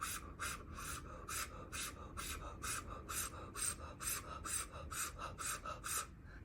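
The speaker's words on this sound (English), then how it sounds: "you're holding your mouth like an O shape and breathing rapidly in and out" Quick, rhythmic breaths in and out through a mouth held open in an O shape, about a dozen sharp airy pulses in steady succession, close and soft, alone without talking.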